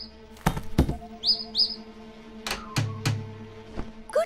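Cartoon bird chirps, two quick rising tweets near the middle, set among sharp thumps and knocks in an animated scene, with short bursts of activity between quiet gaps.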